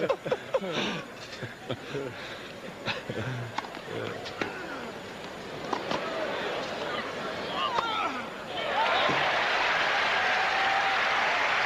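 Spectators at the 1990 US Open tennis match between Andrei Chesnokov and John McEnroe clap and cheer, building from scattered applause under commentary into a loud, sustained roar.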